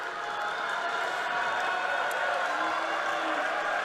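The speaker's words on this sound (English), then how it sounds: "The home crowd making its presence known." A crowd at a college wrestling match between Ohio State and Chattanooga keeps up a steady, full roar of cheering and noise, constant and fairly loud across the few seconds.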